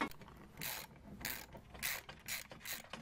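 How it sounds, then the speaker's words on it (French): A ratchet clicks in quick bursts while loosening the rear silent block mount cup on a BMW E36, several short rasping runs separated by pauses, close and fairly quiet, with no talk. "je suis en train de desserrer on va dire la coupelle du silent block"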